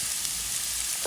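Kachki fish and potatoes sizzle in a hot pan, a steady even frying hiss through the whole short moment, with no voices.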